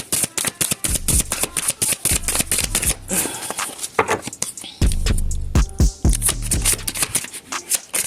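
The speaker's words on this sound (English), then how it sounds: "I'm going to pull one more card" A deck of tarot cards is riffled and shuffled in quick bursts of crisp flapping and snapping, with sharp taps as cards are squared and pulled, loud and close, with no talking.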